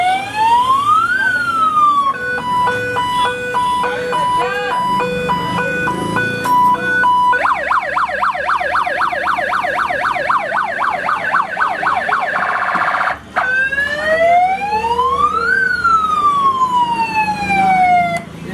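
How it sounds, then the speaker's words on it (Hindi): A loud four-tone electronic siren fitted to a motorcycle cycles through several distinct tones: rising wails, rapid beeping patterns and fast warbles, with no talking. "तो ये था 4 टोन वाला सायरन जो कि मैंने इंस्टॉल करवा लिया है"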